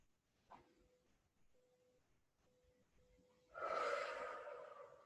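A slow, deep nasal in-breath during qi gong breathing practice, faint and close, starting with a short sniff, then a quiet stretch, and ending in a louder, fuller rush of air toward the end.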